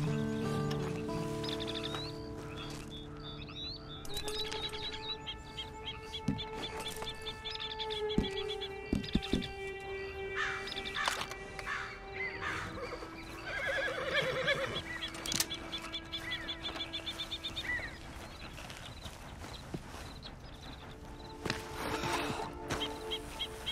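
A horse in the Red Dead Redemption 2 game neighs and whinnies repeatedly, with snorts and hoof clip-clops mixed among bird calls in an outdoor scene, fairly close and clear with no talk.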